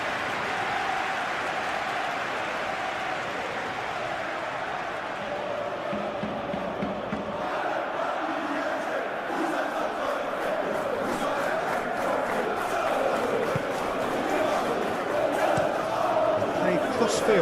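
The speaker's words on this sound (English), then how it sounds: "Maybe the crowd will stay a little quieter next time." Steady stadium crowd roar from a PES 21 football simulation of Chelsea versus PSG in a Champions League round of 16 match, a continuous dense murmur that swells slightly louder toward the end.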